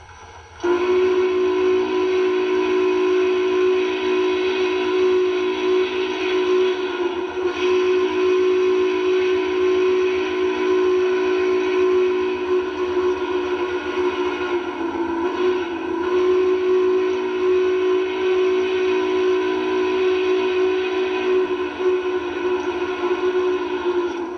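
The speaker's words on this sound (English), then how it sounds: "That crossing signal will let you know a big piece of iron's coming through." An MTH model Union Pacific Big Boy steam locomotive whistle sounds the crossing signal: one long, loud, unbroken tone for over twenty seconds, close and steady, with slight wavers in pitch.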